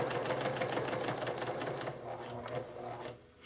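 A sewing machine runs steadily and close up while stitching sashing onto a quilt top, its fast rhythmic whir slowing near the end.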